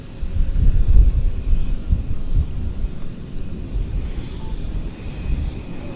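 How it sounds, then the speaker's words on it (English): A Summit Aviation Avro RJ airliner comes in to land at Vancouver Airport, its engines a broad, rumbling roar heard from a distance, loudest early on and then easing, with some wind buffeting. "This is the Summit Aviation Avro liner coming in."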